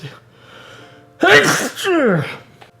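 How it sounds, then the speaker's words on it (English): A single loud, close human sneeze, a sharp intake then a forceful burst, heard after a faint murmur against a quiet background during a playthrough of Ocarina of Time. "Did not mean to sneeze like that."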